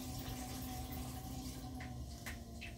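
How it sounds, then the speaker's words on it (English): High-pressure water sprays and hisses from a leaking valve on an irrigation pipe, a faint steady rush with a few brief louder spurts near the end. "There's high pressure water coming through the pipes, which is creating jets of water or drops"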